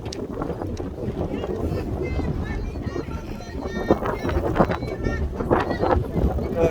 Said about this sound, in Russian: Ветер усилился, я по себе ощущаю, когда еду на велосипеде, по себе ощущаю очень сильный ветер.